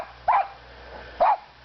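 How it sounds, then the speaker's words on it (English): Two sharp indoor dog barks about a second apart, moderately loud and close, with a quiet room hum between them and no talking. "They're barking because I'm talking."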